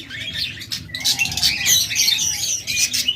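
A pair of rainbow and mauve rainbow budgerigars, male and female, chirping and chattering close by, quick high tweets and warbles in overlapping bursts with no talking.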